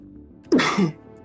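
A single sharp human sneeze bursts out close and loud, a quick two-part explosive breath over faint room noise.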